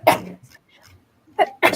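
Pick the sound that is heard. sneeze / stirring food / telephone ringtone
sneeze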